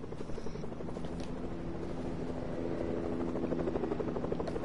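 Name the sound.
helicopter in a video game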